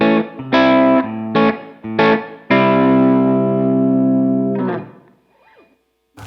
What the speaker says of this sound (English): I'm just going to have a simple room reverb